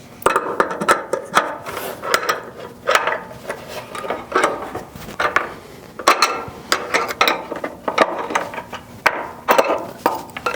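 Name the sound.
tightening nuts with a small adjustable wrench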